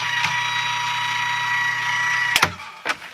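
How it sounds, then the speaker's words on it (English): A Tim Holtz Vagabond electric die-cutting machine runs with a steady mechanical whir and hum, broken by a few sharp clunks and clicks near the end, loud and close with no talk. "I'm using the Vagabond from Tim Holtz. So it's electric. It's going to make some noise here off camera."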